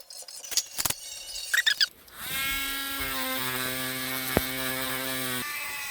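A small drill bores holes in a cicada-shaped sprinkler, a steady high whine running for several seconds after a few short clicks and taps of handling.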